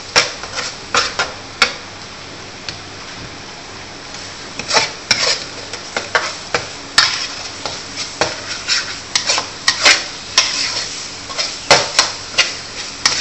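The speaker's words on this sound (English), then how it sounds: "And we stir. So this one take another 15 to 20 minutes. Stirring, stir again." Sambal being stirred in a pan, with a utensil scraping and clacking against the metal in an uneven rhythm of sharp taps, busier in the second half, over a low steady background.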